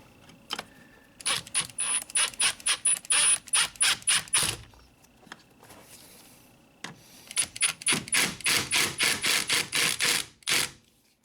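A screw being driven by hand into a broken glove box hinge on a Honda Accord, heard as two runs of quick, evenly spaced ratcheting clicks close by, separated by a short pause.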